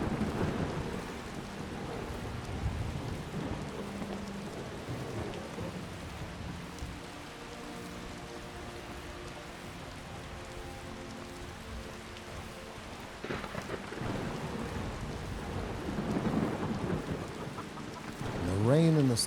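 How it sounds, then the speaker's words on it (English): Steady rain hisses throughout with low rumbling thunder, a continuous storm ambience in the video game Skyrim that swells louder near the end. "The rain and the storm is still coming strong."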